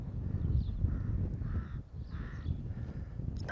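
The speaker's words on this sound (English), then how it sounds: "A few birds singing." Crows cawing in repeated calls at a campsite in Doolin, Ireland, in the early morning, heard at moderate distance over a low outdoor rumble, with no talking.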